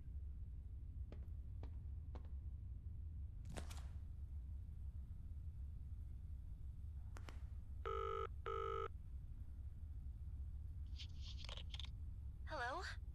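In the horror video game Zoochosis, a telephone gives two short electronic ring bursts, faint against a low background hum with scattered clicks and soft sounds around them.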